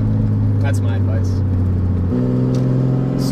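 Nissan 240SX S13 with a swapped RB20 engine, idling loud and steady, then stepping up to a higher, harsher rev partway through, with deep rumbling harmonics throughout and no talk.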